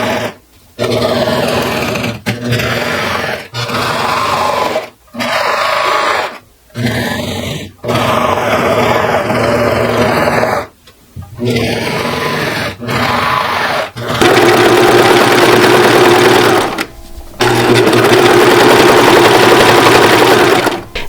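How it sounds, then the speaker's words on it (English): A serger overlock sewing machine stitches knit fabric in fast, loud whirring bursts of a few seconds each, stopping and starting repeatedly with short pauses between runs, close up. "my serger, because I can go fast on that thing"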